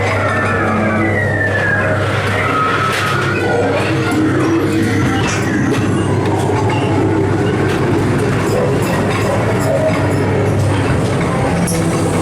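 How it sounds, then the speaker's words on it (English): A Ghost Train ride car at Blackpool Pleasure Beach rumbles steadily along rails with continuous clattering and mechanical noise, a low hum running underneath throughout. "Time for a ride on the Ghost Train now."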